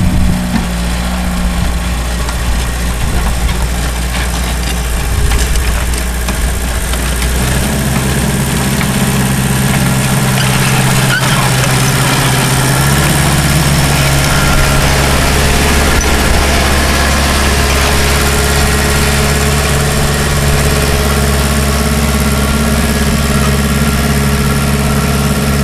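A Rayco C85D dozer's diesel engine runs loudly nearby, a deep steady rumble with rattling vibration that shifts in pitch as the revs change, without any talking.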